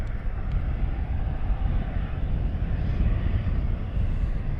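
A Boeing Dreamliner arrives at Luton Airport with a steady, broad jet-engine roar that holds at a moderate level throughout, and no one speaks.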